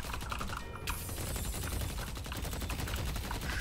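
Rapid gunfire from the video game Deadlock crackles in dense, evenly spaced bursts, loud and continuous with no talking over it.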